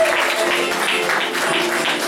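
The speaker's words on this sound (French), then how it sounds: "Donne les acclamations." A church congregation applauds and cheers in a steady, dense wash of clapping and voices that lasts throughout.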